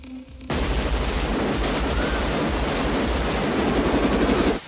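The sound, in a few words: gunfire in a film shootout scene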